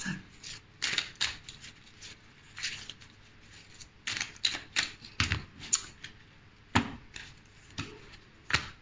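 Tarot cards being shuffled by hand, crisp bursts of riffling and slapping cards coming in irregular quick clusters at close range, with short quiet gaps between them and no voices.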